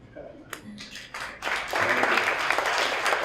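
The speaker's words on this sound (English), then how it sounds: "we're gonna give him a round of applause and we're gonna let him speak" At a pitch night event, a few scattered claps begin and swell into fuller audience applause that holds steady to the end, with talk heard faintly at the start.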